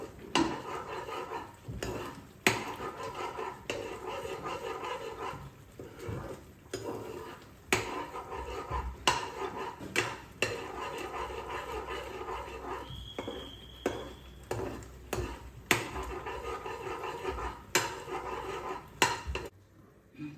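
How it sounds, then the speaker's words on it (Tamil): A spoon stirs Chettinad okkarai in a metal pan, giving steady rhythmic scraping and clinking strokes at close range with a low background hum. "கிண்டிட்டு இருக்கேன்."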